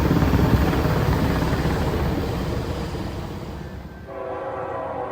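A Norfolk Southern freight train approaches through Princeton, Indiana, its loud rumbling roar filling the air, then a sustained multi-tone horn blast sounds near the end, no one speaking.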